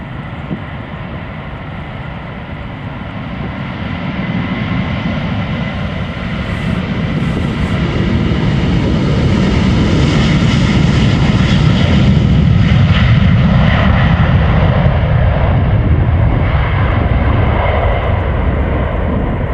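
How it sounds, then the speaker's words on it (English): A 20-year-old Delta Airlines Airbus A330-300 jet departs Amsterdam Schiphol Airport, its engines roaring loud and close, building steadily into a sustained thunderous rumble that holds to the end with no voices. "This is Delta Airlines Flight 75 to Atlanta, Georgia, A330-300, 20 years old"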